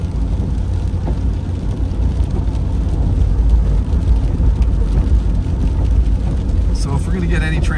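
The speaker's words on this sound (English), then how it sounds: "I kind of feel like I'm feeling some heavier precip coming down." Steady rain falling during a storm in Big Bear, California, a continuous broadband hiss with a low rumble underneath, heard close and unbroken.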